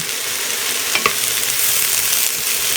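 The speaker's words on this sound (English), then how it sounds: "I'll just let this sit for about 45 seconds so the broccoli can get some of that heat" Beef and broccoli sizzling in a hot stir-fry pan, a loud, even hiss of frying left undisturbed, with one brief scrape near the middle.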